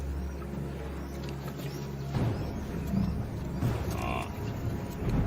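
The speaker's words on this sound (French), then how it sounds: "Les buffles se rapprochent une nouvelle fois." A herd of African buffalo draws near on South African grassland, with low grunting, moo-like calls and a steady rumbling bed of movement.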